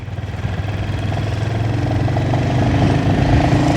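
A Royal Enfield Hunter 350 motorcycle idles close by, a steady low thumping single-cylinder beat that holds even and slightly builds in loudness.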